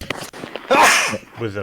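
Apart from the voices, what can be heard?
sneeze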